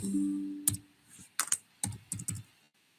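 Someone types code on a computer keyboard during a school informatics programming project, producing close, crisp clusters of key clicks in short irregular bursts with brief pauses between them.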